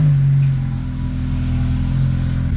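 Engine of an Acura TLX or 10th-generation Honda Accord fitted with dual trunk-mounted air compressors, a loud steady low rumble close by that barely changes over the short stretch.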